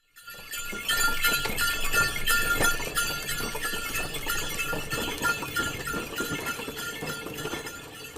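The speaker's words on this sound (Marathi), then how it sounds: "बैलगाडी" A bullock cart rolls along with steady jingling bells and clinking, knocking hoof and wooden-wheel clatter throughout, moderately close and unbroken by talk.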